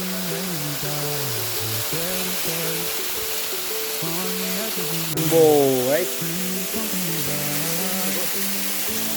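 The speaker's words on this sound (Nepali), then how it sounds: "Beautiful Jharna." A small jungle waterfall at Jhulungey Pul pours as a steady broadband rush throughout, close by, with several people chatting and exclaiming over it.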